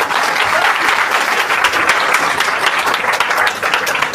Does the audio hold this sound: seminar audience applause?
yes